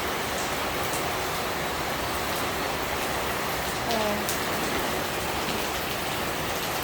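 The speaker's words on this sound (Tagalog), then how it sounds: "hindi masyadong malakas yung ingay ng ulan" Heavy rain pours steadily onto crops in a field, a dense, continuous hiss of falling water with gusting wind, and a voice briefly exclaims once near the middle.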